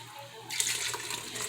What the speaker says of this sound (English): So I'm swirling around. There's a jar of water.